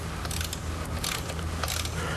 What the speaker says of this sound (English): the center lock nut that's on the top of the shaft can be removed with a 1/2-inch socket.